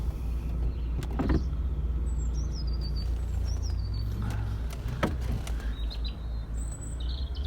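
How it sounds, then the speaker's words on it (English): Electric folding roof on a 2009 BMW E93 320i M-Sport convertible running: a quiet, steady motor whir with faint clicks and knocks, while outdoor birds chirp in the background. "Very quiet in operation, the roofs on these."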